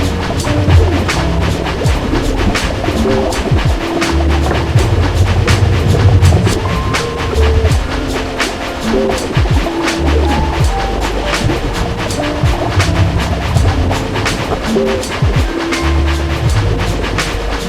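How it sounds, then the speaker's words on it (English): Train rolling through a tunnel: a loud, continuous low rumble with rhythmic clickety-clack of wheels on rail joints throughout, with no talk. "Spirit Train begins moving towards the temple, traveling along the tunnel to bring himself and Chris closer to the impressive structure"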